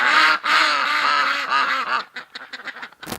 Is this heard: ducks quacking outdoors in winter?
yes